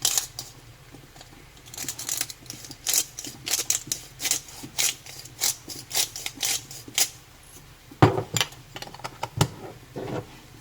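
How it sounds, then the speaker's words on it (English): Close-up knife chops through broccoli and cauliflower on a board, sharp clicks repeating in an irregular rhythm, with a few louder cuts toward the end. "you're chopping up the broccoli and the cauliflower?"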